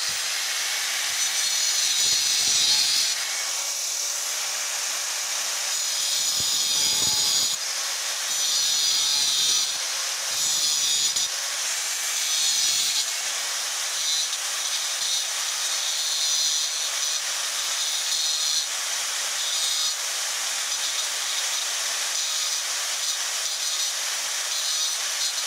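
A Norton Octopus flap disc on an angle grinder works a piece clamped in a vise, a loud, continuous high-pitched abrasive hiss and whine with brief dips in load through the opening seconds.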